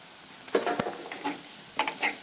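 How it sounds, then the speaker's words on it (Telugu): Chili powder, ground coriander and cumin frying in a pan for a prawn curry, stirred with a spoon that gives a few scraping, clinking knocks over a soft, steady sizzle, close by and fairly quiet. "వేగేంత వరకు, కారం వాసన పోయేంత వరకు కలుపుకోవాలి."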